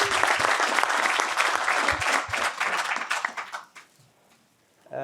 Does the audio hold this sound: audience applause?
yes